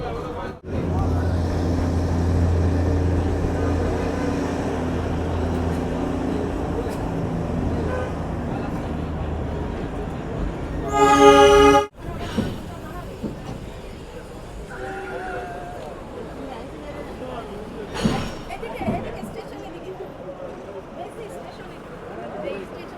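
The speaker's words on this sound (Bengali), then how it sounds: "কখনো জঙ্গলের মধ্যে দিয়ে, কখনো দোকানপাটের পাশ দিয়ে আমাদের টয় ট্রেন এগিয়ে চলেছে" Darjeeling toy train on the Darjeeling to Ghum line rolls along through forest and past roadside shops, a steady rumble with a loud, brief horn blast midway and passing road traffic around it.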